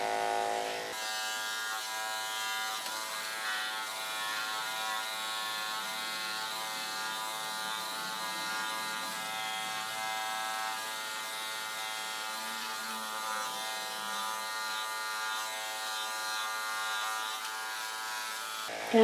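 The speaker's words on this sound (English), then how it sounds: "Let your clippers do the work for you." A continuous buzz of electric clippers running through a cat's fur, steady and close for the whole stretch, with a faint low hum briefly rising beneath it midway and no voices.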